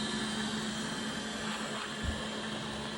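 A robot vacuum cleaner runs while mapping a room, giving a steady, fairly quiet motor whir with a constant hum and a faint low bump near the end, with no talk.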